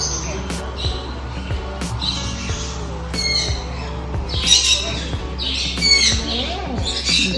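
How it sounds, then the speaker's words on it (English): Birds in the aviaries of a bird cafe in Busan, South Korea squawk in repeated sharp, nearby bursts over a steady low hum and room noise, with voices talking alongside. "So these are the bird aviaries."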